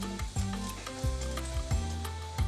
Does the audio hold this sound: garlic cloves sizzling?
yes